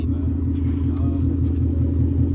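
A manual 5.0 car engine idling or cruising, a steady, deep, throbbing rumble heard up close, continuous and fairly loud throughout.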